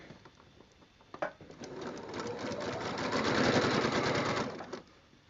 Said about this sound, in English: So now I'm going to sew those through.